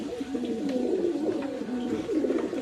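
Pet pigeons coo steadily in continuous low, rolling calls while being bathed, close and fairly loud with no talk over them.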